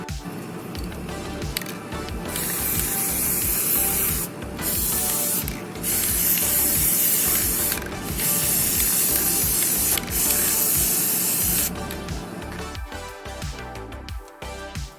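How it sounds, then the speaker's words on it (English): Wood preservative sprayed onto both sides of wooden pieces, a steady hissing spray running in long bursts broken by a few brief pauses, close and loud throughout with no talking. "I'm going to spray both sides with this"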